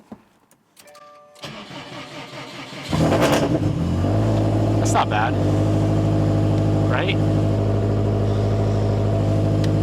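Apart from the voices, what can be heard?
Mitsubishi Evo engine on ethanol starting and idling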